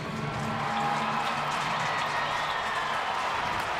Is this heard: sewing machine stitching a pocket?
no